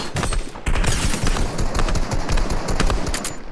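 Fortnite gunshots crackle in a rapid, loud, continuous volley of close shooting, dense and relentless for several seconds with no pause.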